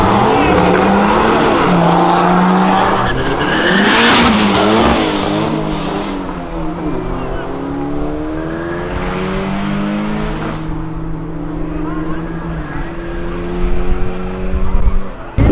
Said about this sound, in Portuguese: Esse é um Mitsubishi Eclipse.